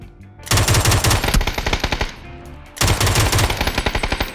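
Two long bursts of rapid automatic gunfire from PUBG on the Miramar map, loud and close, each sustained for about two seconds with a brief gap between them.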